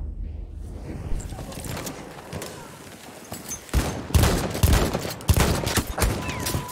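Heavy gunfire in a World War I video game, with rifle and machine-gun shots popping in dense volleys that grow louder and more rapid over the second half.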